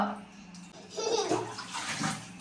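Water running and splashing as a small child is bathed, a steady wash of flowing water with louder splashy bursts near the middle and end, with faint voices in the background.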